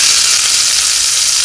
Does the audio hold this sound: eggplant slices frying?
yes